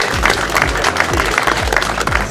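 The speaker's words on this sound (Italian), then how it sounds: "Un applauso forte" Loud audience applause at the opening ceremony of the Palio Marinaro di Santa Fermina rowing festival, a dense sustained wash of clapping from a crowd with no voices standing out.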